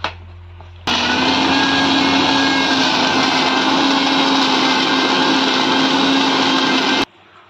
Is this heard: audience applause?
no